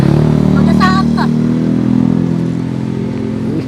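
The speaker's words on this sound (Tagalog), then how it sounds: "Kuya, tumabi ka, may motor." A motorcycle passes close by on a street, its engine a loud steady drone, while people talk over it.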